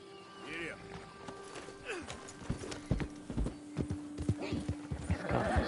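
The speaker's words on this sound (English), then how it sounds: "Esse cavalo cansa muito rápido, mano." A horse gallops in Red Dead Redemption 2 on PS5: close, loud hoofbeats pound in a quickening rhythm, a whinny breaks through, and steady tonal game music hums underneath.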